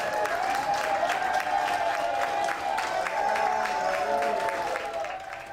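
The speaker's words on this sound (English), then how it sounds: "They cheered and clapped for Cruz, who spent 23 days in the hospital." Hospital staff at Northwest Hospital Center in Baltimore cheer and clap for a discharged coronavirus patient, the 300th released after 23 days. Sustained, dense applause and crowd cheering runs steadily throughout, with voices mixed in.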